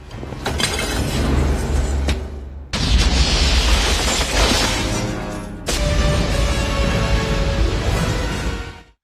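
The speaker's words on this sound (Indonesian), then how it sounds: "Dia melemparkannya ke sebuah akuarium besar dan saat permen karet itu meledak, Ethan memanfaatkan situasi tersebut" In an action film scene, explosive chewing gum detonates and bursts a large aquarium, giving loud booming blasts and shattering crashes in sustained, dense segments with sharp breaks between them.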